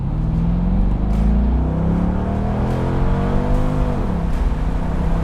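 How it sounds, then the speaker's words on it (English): A 2003 Chevrolet Corvette Anniversary Edition accelerates at full throttle from a rolling start, its loud V8 engine note climbing steadily in pitch, heard from inside the car, with a brief dip at a gear change. "I'm just gonna stomp the throttle here from a rolling start"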